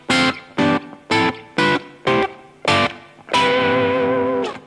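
An electric guitar with a slightly driven, effected tone strums through every diatonic chord of a scale: six short, evenly spaced chord stabs, then a final chord held and left ringing, loud and clear with no talking.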